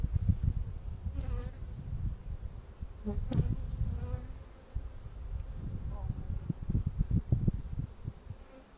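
Bees buzz in a close, droning swarm, with a few individual insects rising and passing near, over a low rumble of handling noise.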